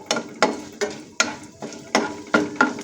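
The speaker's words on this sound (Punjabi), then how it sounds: "ਇੱਕ ਚਮਚਾ ਜੀਰੇ ਦਾ ਐਡ ਕੀਤਾ ਹੈ ਤੇ ਇਹਨੂੰ ਹਲਕਾ ਜਿਹਾ ਭੁੰਨ ਲਵਾਂਗੇ" Cloves, cardamom, black pepper and cumin roast in a pan for pulao, stirred in a steady rhythm of about seven loud scraping, rattling strokes, close up and with no talking.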